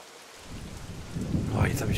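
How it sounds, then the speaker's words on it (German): Thunder rumbles and swells under steady rain in the dinosaur survival video game The Isle, a low roll building in loudness over a couple of seconds with a continuous hiss of falling rain. "Eben war schon ein schöner Donner mit Blitz und allem drum dran."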